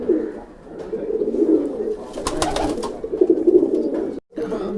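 Madrasi pigeons, including a kaldum kalpar bird, coo in a loft. The low, steady cooing runs almost without pause, with overlapping birds swelling and fading, and it drops out briefly just before the end.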